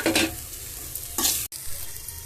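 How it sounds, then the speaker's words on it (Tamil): Tomato sautéing in hot oil for black urad dal chutney, a soft crackling sizzle with two brief bursts of stirring scrapes, close and fairly quiet. "அதோட இந்த தக்காளி ஒன்று போட்டு வதக்கிக்கணும்"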